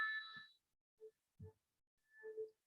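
A small bell rings once, a short bright ding that fades quickly, followed by a few faint soft knocks and tones in an otherwise quiet room.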